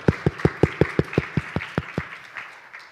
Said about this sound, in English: So you guys give yourselves a round of applause just to get the energy going.